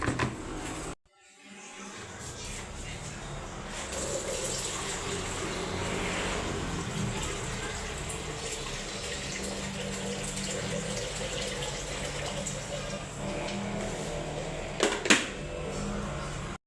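Steady stream of running water filling a kettle for several seconds after a brief pause, close and continuous, with a short clatter near the end.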